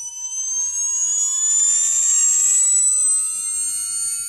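A 22,000 RPM electric motor spins up with a jet-engine-like whine, a loud, close, high-pitched tone rising steadily in pitch over a few seconds before levelling off, heard alone without talking.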